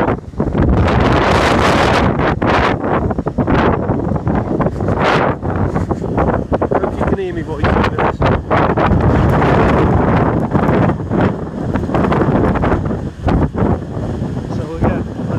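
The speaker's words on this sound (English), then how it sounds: "It's absolutely blowing a gale." Gale-force wind buffets the microphone without pause, a loud, continuous roaring rumble with gusting surges and flapping bursts, with no other sound breaking through.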